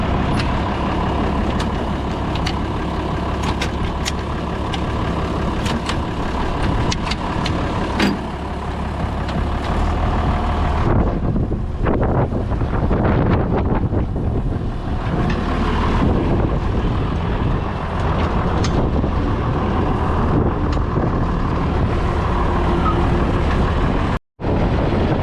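Old truck hauling manure on a farm, its engine running loud and steady as it drives slowly toward the farm shop, with rattles, a squeal and clunks toward the end.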